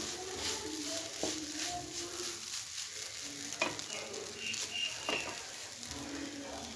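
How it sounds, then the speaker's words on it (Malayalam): Milk is poured into a pan of carrot and tapioca payasam and stirred, giving soft scraping and sloshing strokes over a gentle bubbling simmer, close by with a few light clinks of the spoon. "പാലൊഴിക്കാണ്. നല്ലപോലെ ഒന്ന് ഇളക്കി കൊടുക്കാം."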